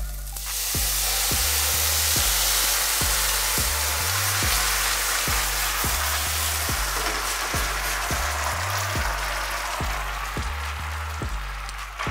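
Dashi poured into a hot pan where salmon was seared, sizzling into a loud, steady hiss that holds for the whole stretch over a low, regular pulsing underneath, with no talking.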